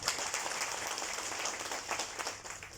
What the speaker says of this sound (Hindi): आपके लिए तालियां बजाइए।